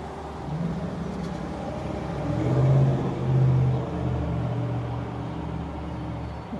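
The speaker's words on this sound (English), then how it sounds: "We'll let these big trucks go" Big trucks rumble past on a nearby road, two louder swells of engine noise rising and fading over a steady low traffic drone.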